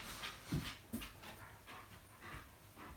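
A dog pants in quick, breathy bursts close by, with a couple of louder huffs near the start, faint overall and without talk.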